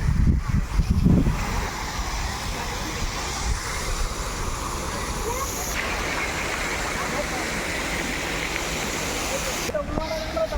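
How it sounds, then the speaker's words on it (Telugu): A waterfall flows in a steady, broad rushing roar that continues for the whole stretch. Wind buffets the microphone, and voices can be heard over it now and then. "ఆ వాటర్ ఫాల్స్ అవన్నీ ఎంత అందంగా ఉన్నాయో"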